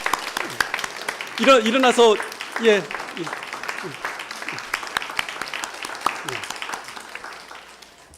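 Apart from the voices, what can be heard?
audience applause for the young conductor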